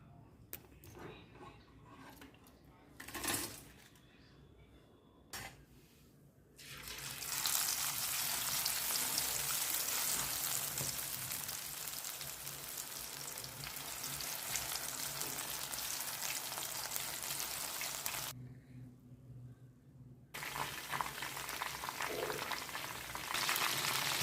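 Mushroom pakoda fritters frying in hot oil, a dense, steady sizzling hiss that starts after a few quiet seconds of clinks, then runs loud and continuous, briefly dropping out before resuming.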